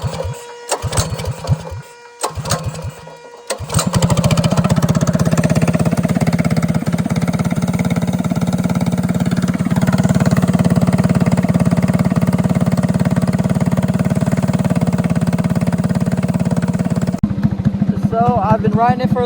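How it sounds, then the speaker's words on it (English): A small go-kart engine, just repaired, is pull-started after a few short tugs on the cord, then catches and runs loud and steady with a buzzing idle close by before revving briefly at the end. "Now I'm gonna pull it. Let's see if it'll start right up."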